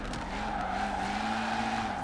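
Car skidding under a sharp handbrake pull in the racing game Forza Horizon 4, during a gymkhana street run: a steady, loud tire squeal with engine drone holding for about two seconds, with no talking.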